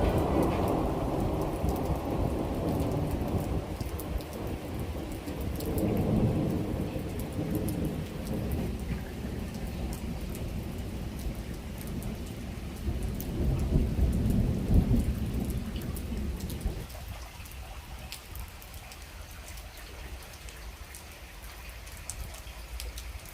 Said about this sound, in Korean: 빗소리와 천둥소리, 번개까지 좀 보실까요?